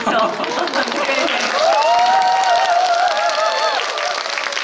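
A live audience applauds at a Korean film press event with the cast of the drama New Normal, the clapping loud and sustained, with voices and a crowd murmur layered over it.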